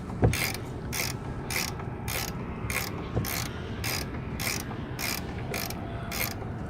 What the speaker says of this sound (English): So we just start wrenching.